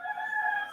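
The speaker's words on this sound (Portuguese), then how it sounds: "Tá bugado esse galo." A rooster crows once, a short, steady, harmonic call that rings out clearly, heard alone during a Brazilian history lesson.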